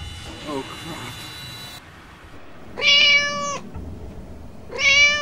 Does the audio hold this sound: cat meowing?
yes